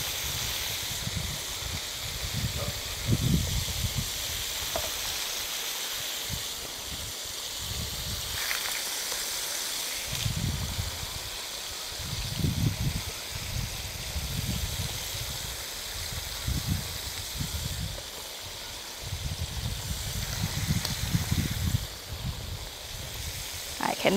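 Fish sizzles in hot oil, a steady bright hiss that runs throughout, with low thumps and clatter from the pan now and then.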